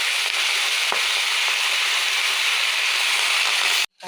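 Panch phoron spices and fish fry in hot oil, giving a loud, steady, close sizzle with small crackles that runs unbroken until it cuts off abruptly near the end.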